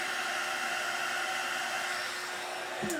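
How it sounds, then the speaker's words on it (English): A heat gun blows a steady, close, whooshing stream of air to dry paint on a handmade peppermill snowman craft, a constant loud hum that is cut off sharply at the end. "That heat gun is wonderful."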